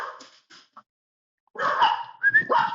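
Several dogs bark in short bursts: a few sharp yips at first, a brief silence, then a louder run of barks and whimpering yelps close by.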